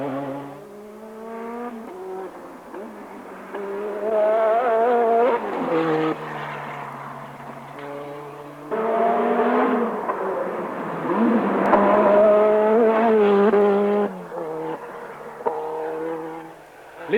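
Renault 5 Turbo rally cars of the Sodicam Elf team, prepared by Galtier, race past with loud, whining engines that rise and fall in pitch through repeated gear changes, steady and close for the whole stretch.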